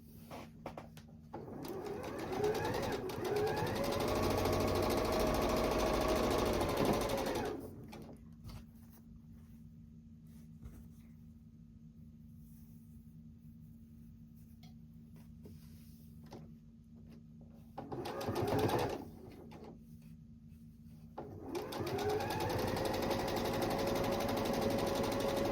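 Domestic sewing machine stitching two pinwheel quilt block halves together, a steady whirring run for several seconds, a pause, a brief burst, then another sustained stitching run, close and clear with no talk.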